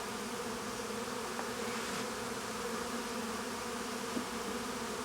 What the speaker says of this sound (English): So this is all bees just ready to come out.